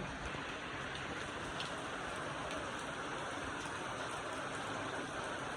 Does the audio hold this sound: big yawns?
no